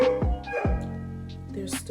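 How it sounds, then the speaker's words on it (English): A dog barks indoors, sharp nearby yips and barks repeating a few times with some whimpering between them. "I'm going to show you my dog who just keeps barking."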